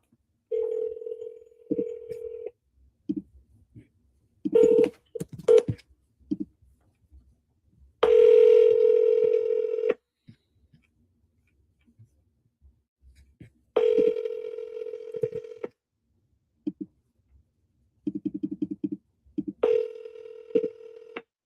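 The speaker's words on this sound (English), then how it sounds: "Let's call Michelle." Telephone keypad DTMF tones dial out to place a call, with short beeps in quick bursts and longer held tones between quiet gaps, heard clearly in a quiet room.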